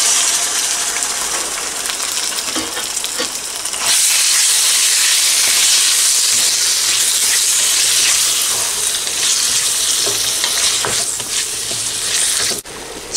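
Chicken and garlic frying in a pan, a loud steady hiss and sizzle that swells after a few seconds and continues with small crackles and scraping, no voices.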